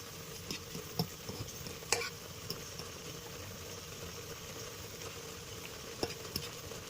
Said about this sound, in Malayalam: ഇനി ഈ മസാല ജസ്റ്റ് നമുക്കൊന്ന് ഇളക്കി ഒന്ന് എല്ലാ മൊത്തത്തിലൊന്ന്